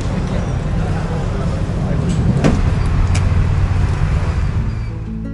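A car drives through Istanbul with a steady interior road rumble and engine drone, a brief click or tap in the middle, and people talking quietly over the noise.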